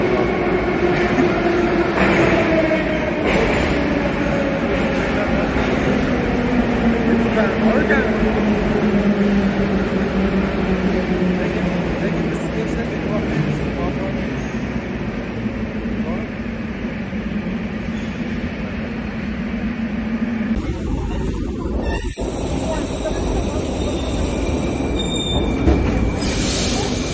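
Metro train pulling into an underground station, a loud rolling roar with falling wheel whine as it slows, then a sharp hiss and high squeal near the end, with no talk.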